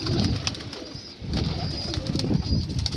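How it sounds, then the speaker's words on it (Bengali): Malwai pigeons coo in a low, busy rumble, close by, with a few wing flutters and faint scuffling mixed in throughout. "এই যে দেখো সব মস্তি করছে পায়রা"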